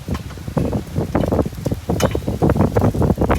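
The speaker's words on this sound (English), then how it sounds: "Quite the windy day." Gusty wind buffets the microphone with rough, fluttering rumbles that rise and fall, close and fairly loud throughout.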